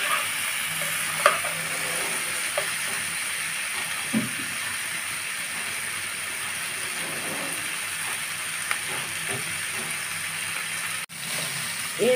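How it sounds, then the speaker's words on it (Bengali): Vegetables stirred and frying in a pan for a fish curry, a steady close sizzle with occasional scrapes and knocks of the spatula, no talking. "দিয়ে ভালোভাবে নেড়ে চেড়ে আমি এটা সুন্দর করে ভেজে নেব"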